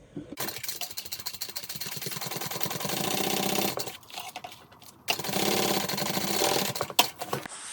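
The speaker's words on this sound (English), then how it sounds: "I'm sewing through that seam, and we're doing 1/4 of an inch seam allowance on this part" A sewing machine stitches a 1/4-inch seam on a handbag in close, rapid mechanical bursts, running in several runs separated by brief pauses, with a small clunk near the end.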